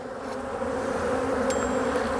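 Continuous buzzing of many honeybees at a hive during feeding, close and steady, with a droning hum that persists throughout.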